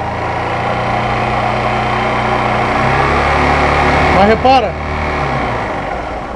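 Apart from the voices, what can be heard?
Honda CG 125 Fan motorcycle engine idling and revving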